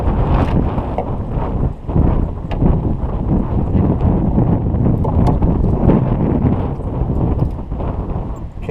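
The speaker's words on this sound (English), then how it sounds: "This wind is just getting too much on this side." Strong gusting wind at a small pond buffets the microphone with a loud, continuous roar that barely lets up, and no other sound comes through it.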